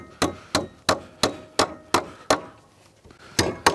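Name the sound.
Stiletto titanium hammer driving nails into wood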